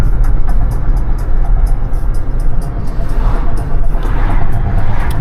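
A car driving along a road toward a horse-riding stable by Kaunas Lagoon, heard from inside as a loud, steady low rumble of engine and tyre noise with a rhythmic ticking running through it.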